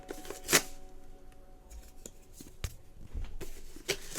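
Cardboard and plastic toy packaging being ripped open in a quiet room, with a few scattered tearing crackles and rustles of varying loudness.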